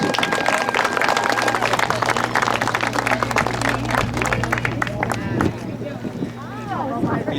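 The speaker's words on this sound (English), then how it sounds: "can we give a round of applause?" Outdoor crowd at a veterans memorial park festival in Minnesota applauds in a dense, sustained wash, honoring veteran pilots. Voices and chatter mix in, and the clapping thins toward the end.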